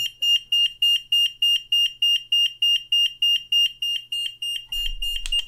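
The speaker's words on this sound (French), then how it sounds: "exactement le même type de sonnerie que vos détecteurs de fumée" An Aeon Labs Z-Wave Plus siren sounds a loud, steady high-pitched beeping alarm repeating in rapid regular pulses, like a smoke detector, with a short rustle at the end.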